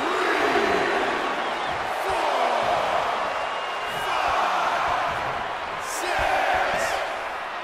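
A crowd in the WWE 2K24 wrestling video game roars and cheers steadily through a Last Man Standing match, a dense wash of noise under a commentator's voice, with a few sharp impacts and swells of excitement.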